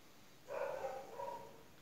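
A dog gives a short, faint bark-like yelp with a whining tail, heard once in a quiet indoor room.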